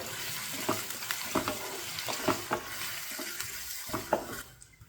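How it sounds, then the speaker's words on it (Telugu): Thinly sliced onions frying on high flame for a drumstick masala gravy, a continuous close sizzle broken by irregular stirring scrapes and clatters. "వేసుకొని హై ఫ్లేమ్లో పెట్టుకుని ఫ్రై చేసుకోండి."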